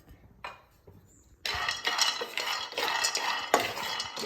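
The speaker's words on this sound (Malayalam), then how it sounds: "നമുക്കിനി ബദാം റോസ്റ്റ് ചെയ്തെടുക്കാം." Almonds being dry-roasted and stirred in a pan, first a couple of faint isolated scrapes, then a sustained close rattling and scraping of nuts against the pan with irregular spoon strokes, no talk.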